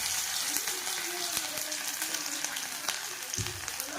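Chopped ginger sizzles in hot oil with panch phoron spices in a wok, a steady crackling hiss with small spits and pops, close and continuous.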